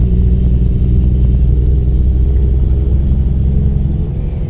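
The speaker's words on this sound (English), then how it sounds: "wow, that engine sound" Kenworth W900 truck engine in American Truck Simulator, a steady, loud, deep diesel drone that holds a constant low rumble throughout with no pauses.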